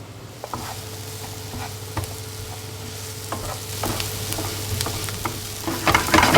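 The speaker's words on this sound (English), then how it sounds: "they just want to fry very gently for a couple of minutes" Onions fry gently with curry paste in a pan for curried rabbit, a soft steady sizzle with occasional knocks of a spoon that grows a little louder toward the end.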